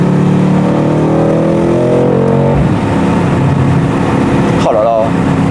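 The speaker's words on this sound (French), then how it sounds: "quand ça résonne, on entend le V8 en mode Sport Plus" A Mercedes C63 AMG V8 in Sport Plus mode roars loudly while driving through a small village, with a strong revving engine note, a sharp drop as the throttle lifts, and a brief voice over the rumble.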